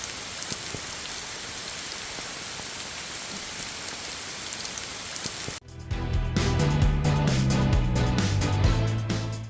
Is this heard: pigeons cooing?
no